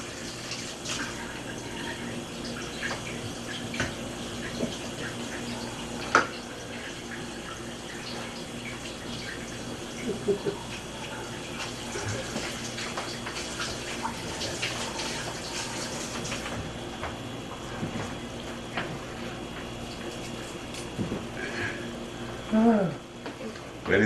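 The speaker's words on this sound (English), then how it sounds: "Wash my hands." Water runs from a tap at a kitchen sink during hand washing, a steady hiss with small clinks and splashes, while cooking sizzles faintly beneath and a voice speaks briefly.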